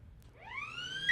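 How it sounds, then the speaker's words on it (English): Half-time siren at a rugby league match at a suburban park ground sounds one rising, harmonic wail that swells steadily in pitch and loudness, heard clearly with no talk over it. "And the siren's gone here at Sid Parish Park."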